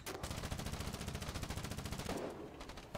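Automatic gunfire in the Foxhole war video game: a rapid, continuous stream of machine-gun shots lasting about two seconds, loud and close, then a brief trailing burst.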